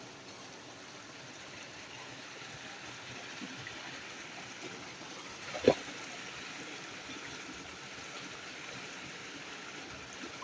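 Water gushes in a strong, steady flow from a pipe, a constant rushing hiss with one sharp splash or knock partway through.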